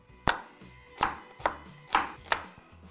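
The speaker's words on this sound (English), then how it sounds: "Chop the onion." An onion being chopped on a board, five crisp knife strikes at an uneven rhythm, close and clear with no talk.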